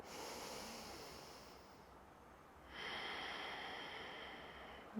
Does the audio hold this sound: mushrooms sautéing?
no